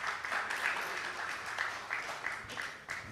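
Applause from a conference audience at an actuarial congress session, a faint, distant, steady patter of many hands that carries on for a few seconds without speech.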